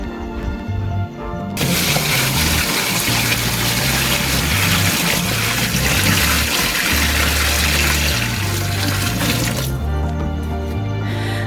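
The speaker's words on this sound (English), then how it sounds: "so let me just add some more water" Water gushes steadily into a small washing machine at a rural homestead, a loud continuous pouring rush that starts after a moment and tapers near the end, with no talk.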